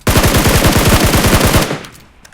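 Gunfire in a shooting video game: a rapid automatic burst of about twenty evenly spaced shots, loud and close, cutting off sharply and leaving a brief fading tail.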